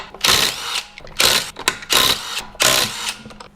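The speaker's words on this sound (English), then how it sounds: "I just picked up this DeWalt brushless 20-volt impact driver, and it's an awesome tool, and it makes quick work of these lug nuts" A DeWalt brushless 20-volt impact driver hammers at the lug nuts of a C7 Corvette in four loud, close bursts of buzzing impacts, each lasting about half a second and separated by short pauses.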